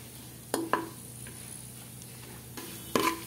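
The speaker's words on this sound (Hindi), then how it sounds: "इसको हम हल्का सा रोस्ट कर लेंगे" Cashews and almonds being lightly roasted in a pan, with a few sharp stirring scrapes and clinks against the pan over a quiet, low background hum.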